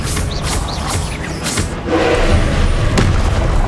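Spell-casting in Hogwarts Legacy on PS5, a string of Expelliarmus and other charms fired in quick succession, giving loud whooshing bursts and deep booming impacts over continuous game ambience.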